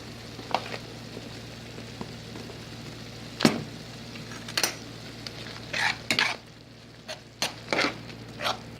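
Ground turkey with barbecue seasoning being stirred and chopped in a pan, with a steady low sizzle under repeated sharp clinks and scrapes of a utensil against the pan at irregular intervals.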